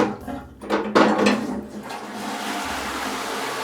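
A Rocket toilet with a high cast iron cistern in an old farmhouse flushes, starting with a few knocks and a sudden loud gush of water, then settling into a steady rushing refill.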